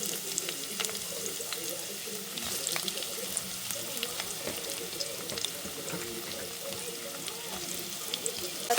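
Onions frying in hot mustard oil for a mutton dish, a steady crackling sizzle with a busy popping texture and some scraping, close and continuous.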